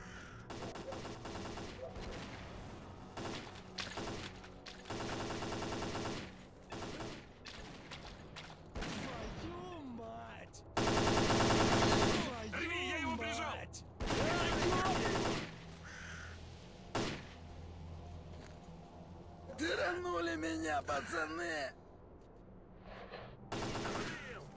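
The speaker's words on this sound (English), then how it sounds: "Somebody shooting at me?" Bursts of gunfire in S.T.A.L.K.E.R.: Call of Pripyat, loud volleys and shorter shots spread irregularly over a long stretch, with talk and other game sounds between them.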